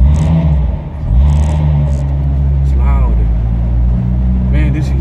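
A 2019 Corvette engine rumbles loudly and steadily up close, with a brief dip and then a rise in revs, while voices talk faintly over it.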